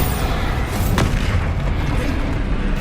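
The Bombarda blasting spell going off in Hogwarts Legacy: a loud, dense explosive roar that fills the whole clip, with a sharp burst near the one-second mark.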